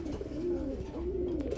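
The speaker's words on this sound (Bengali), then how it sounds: "টাইগার কালারের মধ্যে চলে আসছে জায়েন্ট হোমা কবুতর।" Giant Homer pigeons in tiger colouring coo close by in a steady, low, rolling series of calls, with no talk over them.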